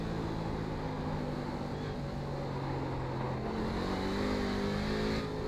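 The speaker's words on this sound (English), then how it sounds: "Just listen to that car engine." A race car's engine drones in the iRacing sim game, a continuous high-revving whine with shifting pitch lines as it accelerates and holds speed, steady and loud throughout.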